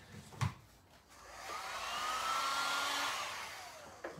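A hair dryer drying chalk paint, rising into a steady, fairly loud whooshing blow with a faint whine that holds for a few seconds before it fades, with a few small knocks at either end.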